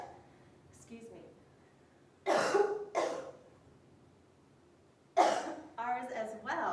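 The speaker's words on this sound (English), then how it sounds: "Not a good time for a coughing fit." A person having a coughing fit during a mock interview, with a few sharp, close coughs in separate bursts between quieter moments.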